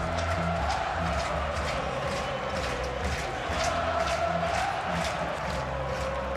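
Football crowd at a 2011 Clemson vs Wake Forest game on senior day, a steady, dense roar of many voices and cheering that holds at an even loudness throughout, with no single voice standing out.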